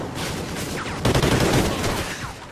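Rapid gunfire rattles in Call of Duty: Ghosts, dense overlapping bursts that intensify midway and stay loud and close to the end.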